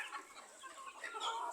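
Domestic desi chickens cluck softly nearby, a faint overlapping chatter of several hens murmuring continuously in a quiet farmyard.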